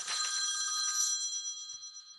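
A phone call ringing at once on several devices, a bright electronic ring that stays loud and steady for about two seconds, then slowly fades.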